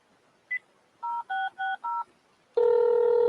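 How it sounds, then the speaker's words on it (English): A house phone keypad sounds a short series of touch-tone beeps, one brief tone and then four quick evenly spaced dialing tones, followed by a loud steady tone held to the end. "Oh, look at that phone."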